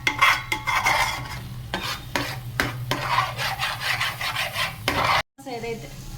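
A spoon stirring paneer makhana curry with cashew paste in a pan, repeated scraping and rubbing strokes with a soft sizzle underneath, close and steady.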